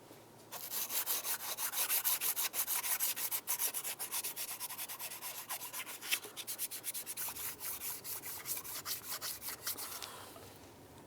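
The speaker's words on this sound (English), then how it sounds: "Let's use our sanding block with some clean sandpaper." A sanding block with clean sandpaper rubs steadily across an engine surface on a 2010-2013 Ford Transit Connect during knock sensor replacement, a close, continuous scratchy rasp of rapid back-and-forth strokes lasting throughout, with no talking.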